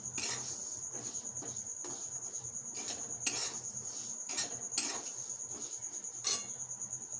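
Something frying in a pan until reddish: a soft steady sizzle with a high-pitched whine, broken by rhythmic metal spatula strokes scraping and clinking against the pan bottom.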